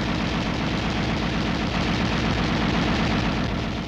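An M73 7.62mm air-cooled, recoil-operated tank machine gun fires a continuous fully automatic burst, a loud rapid stream of shots that runs unbroken for about four seconds.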